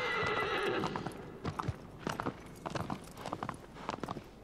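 In the Shadow of the Colossus video game, a horse gives a long whinny, then breaks into a gallop. Irregular hoof clops thud under soft game ambience, moderately close, with no talk.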